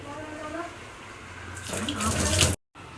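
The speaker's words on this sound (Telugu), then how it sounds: "కొంచెం వాటర్ పోసుకున్నాం." Water is poured into a pan of simmering Telangana-style fish curry (chepala pulusu): a short, loud splashing pour of about a second, close by, after quieter kitchen background.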